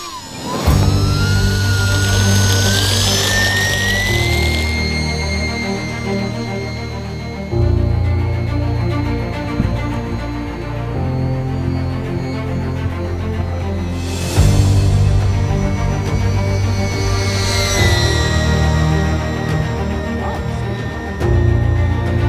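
An E-flite UMX Cirrus RC plane's small electric motor whines loudly on its maiden flight, steady for long stretches and rising in pitch with a few throttle surges and swells as it passes near.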